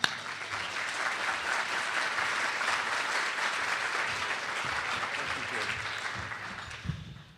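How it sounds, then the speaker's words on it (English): Audience applause at a school reform and philanthropy event greets the incoming school leader, a full, steady round of clapping that holds evenly and fades out at the end as a voice begins. "give him a round of applause"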